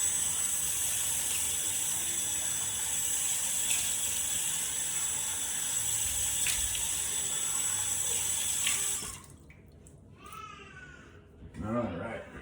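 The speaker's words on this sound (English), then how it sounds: "gonna go ahead and wash the face off" Tap water runs steadily into a bathroom sink during face washing after a shave, a continuous broadband hiss lasting about nine seconds before cutting off, followed by quieter handling sounds.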